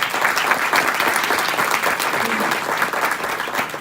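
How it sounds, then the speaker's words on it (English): A conference audience at a childhood cancer summit gives a full, steady round of applause, a thick wash of clapping hands that holds at the same level throughout. "I do need another round of applause for Linda McCall."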